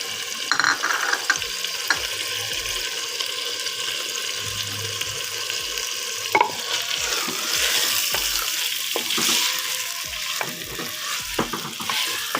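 Fresh onions with salt, chilli and lemon juice sizzle steadily in a pan for a dhaba-style mixed vegetable dish, while a spoon scrapes and stirs through them with repeated clinks and rasps, close and alone without talk.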